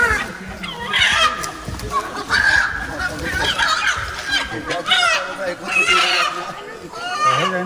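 Chickens clucking and squawking at a crowded shrine festival where hundreds of birds are offered to a deity, a busy continuous din of fowl calls mixed with voices and crowd noise throughout.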